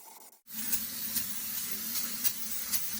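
Water sprayed to rinse out the inside of a car's differential housing, a steady hissing spray with a few sharper bursts, starting after a brief pause.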